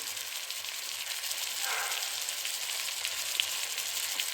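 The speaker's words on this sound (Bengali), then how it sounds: "ভালো করে নেড়ে নেড়ে মশলাটাকে ভেজে নেব।" Spices and slit green chillies sizzling steadily in a pan for Bengali egg curry, a soft continuous hiss with a faint stir partway through and no talking.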